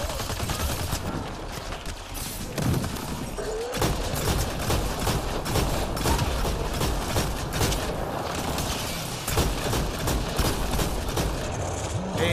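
Shotgun blasts and other weapon fire in Mass Effect: Andromeda pound throughout a busy combat scene, loud and continuous, with repeated sharp reports over a dense layer of battle noise.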